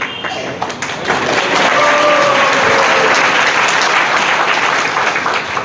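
Loud, dense applause from an audience at a Hindi religious discourse, steady and sustained throughout with a faint voice underneath.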